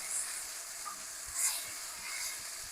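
Garlic sizzles in a pan with vegetables already softened and turned translucent, cooking for shakshuka; a steady, close hiss of frying runs throughout with small crackling flare-ups and no talking.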